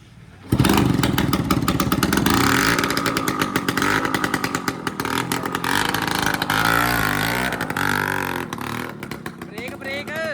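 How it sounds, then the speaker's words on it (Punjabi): A scooter engine sputters and revs unevenly, cutting in and out as it struggles and fails to start, with voices talking over it. "ਸਕੂਟਰ ਨਹੀਂ ਸਟਾਰਟ ਹੋ ਰਿਹਾ"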